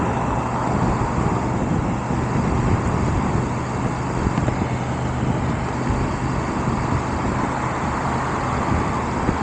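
BMW 2023 F850 GS Trophy motorcycle cruising in third gear with steady throttle up a slight hill among city high-rises, a continuous loud engine and road rumble with wind noise throughout.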